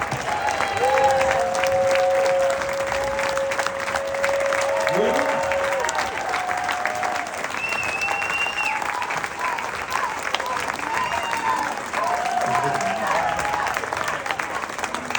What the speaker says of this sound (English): let's give Scott a big round of applause